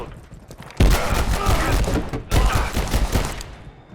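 Two loud, booming shotgun blasts in the video game Abiotic Factor, each followed by a long noisy decay, sit close and heavy with a voice speaking between and under them.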